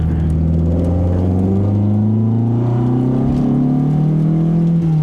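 A 1972 Toyota Celica fitted with Mikuni 40PHH carburetors pulls hard under acceleration, its engine note climbing steadily in pitch as a loud, continuous drone heard from inside the car, with no talking.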